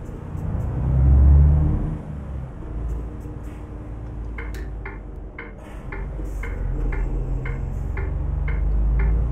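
A bus in Euro Truck Simulator 2 on a Turkish route brakes with its retarder, giving a sustained low rumbling drone under steady road noise and a regular ticking, loud and close throughout.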